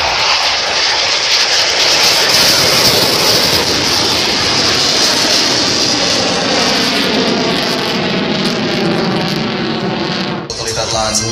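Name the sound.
Polish MiG-29 Fulcrum jet at full power during air display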